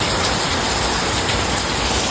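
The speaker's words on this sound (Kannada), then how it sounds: "ಅಲ್ಲಿ ನೋಡಿದ್ರೆ ಸಿಕ್ಕಾಪಟ್ಟೆ ಮಳೆ." Heavy monsoon rain pours down in a dense, constant roar of drops hitting surfaces close by, loud and unbroken, with no voices.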